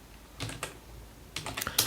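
Someone types an SQL query on a computer keyboard, two short bursts of quick, close key clicks separated by a brief pause.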